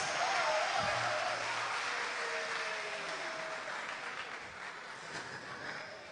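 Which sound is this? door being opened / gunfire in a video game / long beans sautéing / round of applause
round of applause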